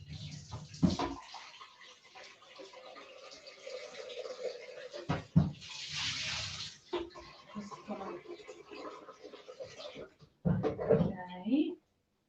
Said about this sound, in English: So I'm just gonna put in some warm water.